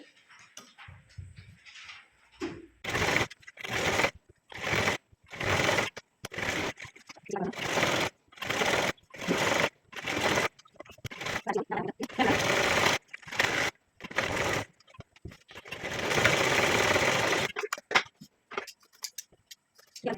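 A sewing machine stitches a seam on a salwar in short repeated bursts of rapid mechanical clatter separated by brief pauses, close and fairly quiet, with a longer steady run near the end.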